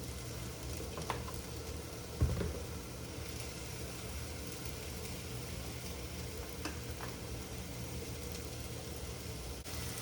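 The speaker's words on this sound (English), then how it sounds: "Make sure all of it gets some of that oil on them so they'll fry up" Food for green chili, tossed in oil and seasoned with salt, pepper and garlic salt, fries in a pan with an even, fairly faint sizzle and a single soft knock partway through.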